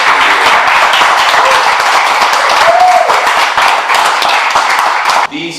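Audience applause in a studio broadcast setting, steady dense clapping from many hands filling the space for about five seconds before cutting off abruptly.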